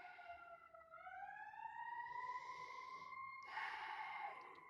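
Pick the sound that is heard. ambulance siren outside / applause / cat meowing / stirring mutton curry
ambulance siren outside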